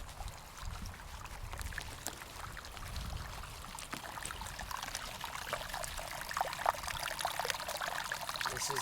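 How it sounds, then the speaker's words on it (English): Water runs down from steaming sulfur fumaroles in Yellowstone National Park, making a continuous close trickling, splashing flow with small irregular spatters and no voices. "This is the water that's flowing down rather, from these fumaroles."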